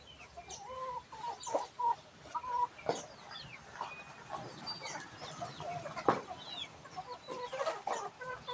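Native chickens near their nests cluck and chatter repeatedly at close to moderate distance, with overlapping short calls and a few sharper squawks scattered through steady low background noise.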